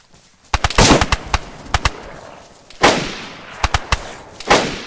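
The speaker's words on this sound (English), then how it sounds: "Someone else is shooting." Gunshots from a Mosin rifle in the DayZ video game: a series of sharp, loud cracks in irregular bursts, some rapid and close together, others spaced out, each with a brief rolling echo.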